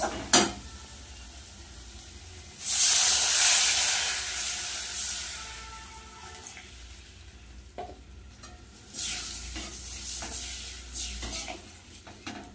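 Water poured onto a spice paste fried down in oil bursts into a loud, steamy sizzle that swells, eases off, then flares again while a spoon stirs and scrapes the pan.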